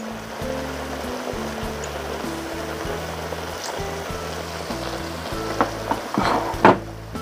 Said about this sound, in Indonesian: Diaduk-aduk sampai bumbunya matang ya teman semua.